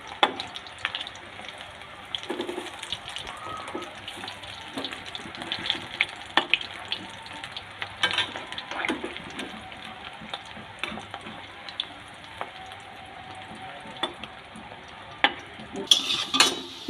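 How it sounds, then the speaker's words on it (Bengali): Fish roe fritters (macher dimer bora) sizzle steadily in hot oil in a pan for a long stretch, with occasional clinks and stirring scrapes rising above the constant crackle. "এরকম একটা একটা করে বড়াগুলো আমি তেলের মধ্যে দিয়ে দিচ্ছি"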